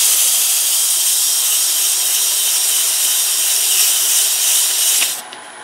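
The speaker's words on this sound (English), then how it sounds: "it's going to be a good time to go ahead and sand this portion of the scoop" Sandpaper held against a wooden scoop spinning on a lathe at about 800 rpm gives a loud, steady, close hiss that runs unbroken for about five seconds, then drops away abruptly.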